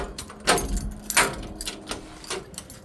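A door being worked open: a few rattling, scraping clunks of a handle and latch, close by, in irregular bursts.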